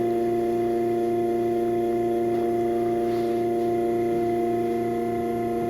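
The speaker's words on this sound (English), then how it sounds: "sorry if you hear the buzzing in the background" A steady electrical buzz hums throughout with constant tonal drones, like a vacuum cleaner running in another room, with no speech.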